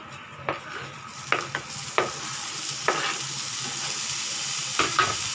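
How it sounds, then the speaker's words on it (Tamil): Sesame seeds and grated coconut stirred and sautéed in a hot pan, a low sizzle under several distinct scraping strokes of a spoon spaced irregularly across the stretch. "நம்ம இதை நல்லா கலந்து விட்டுக்கலாம், வதக்கிடலாம்"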